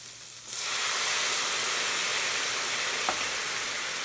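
Cognac poured into a hot pan after searing a New York strip steak, bursting into a loud, steady sizzle and hiss that holds evenly to the end.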